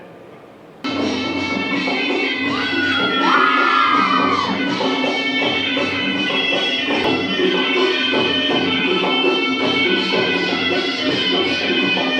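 Large outdoor crowd at a district-level government function in Puniyavant, Chhota Udepur, cheering and clapping loudly and continuously, with shouts and whoops rising over a steady roar.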